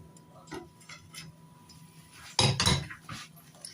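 A spoon stirs molokhia into boiling soup in a metal pot, giving light scraping clinks, then a louder burst of clattering knocks against the pot, close up with faint background.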